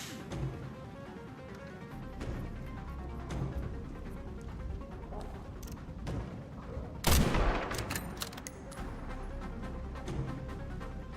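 Gunfire in the video game Resident Evil 9: a steady bed of game noise with scattered sharp reports, and one loud burst of shots near the middle that rings out and then settles back.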